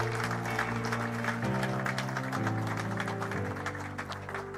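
A church congregation applauds to acclaim the Lord, continuous loud clapping under sustained musical tones, easing slightly toward the end.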